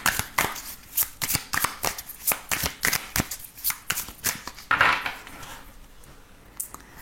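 Oracle cards from the Xavam deck are shuffled in quick repeated riffles, a close, crisp series of papery slaps and flutters that slows and softens toward the end.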